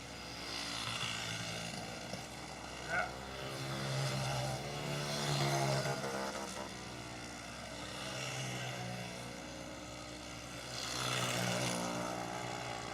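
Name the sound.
go-kart engines racing around the track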